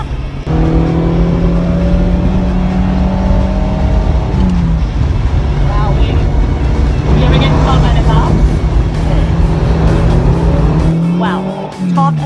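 Car driven fast on a closed track, engine roaring loud and close with shifting revs, tires squealing through turns, and a voice talking over the noise near the end.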